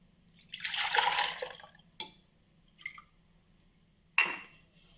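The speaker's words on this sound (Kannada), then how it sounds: "ಈಗ ರುಬ್ಬಿಟ್ಟುಕೊಂಡ ಮಿಶ್ರಣಕ್ಕೆ ನೀರನ್ನು ಹಾಕಿ" Water poured into a ground raw-mango paste mixed with chilies and salt, a broad splashing pour near the start followed by a few short drips and splashes, close and fairly quiet with no voices.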